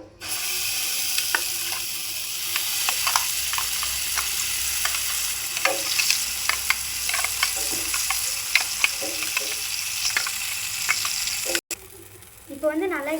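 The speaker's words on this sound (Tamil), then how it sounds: "இப்போ நம்ம கிரைண்ட் பண்ணி வச்ச செவ்வாழைப்பழத்தை இந்த நெய்யில் வந்து ஆட் பண்ணிக்கலாம்." Ground red banana frying in ghee in a pan, with a steady loud sizzle and scraping, clicking stirring strokes throughout; a brief cut and a short spoken voice come near the end.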